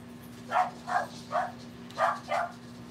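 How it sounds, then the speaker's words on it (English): A dog named Ellie gives five sharp barks in two quick bursts, three then two, moderately close over a steady low electrical hum. "Ellie is a strange dog and she barks at people leaving, not people arriving."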